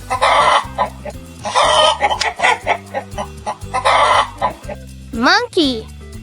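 Chicken clucks come in lively repeated bursts over a looping backing music track, with a voice speaking briefly near the end.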